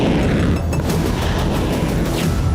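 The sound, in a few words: missile strike explosion, Iskander-M ballistic missiles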